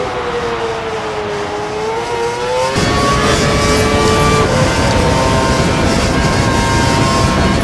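An F1 car in the F1 2012 racing game, at Brazil, rolls into the pit lane, its engine whining at a steady pitch, then a louder, harsher engine roar swells in and holds close and constant.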